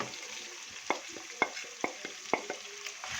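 Beef and spices sizzle steadily in a hot pan during bhunai, with sharp scraping clicks from a spoon stirring at irregular intervals, close and fairly quiet.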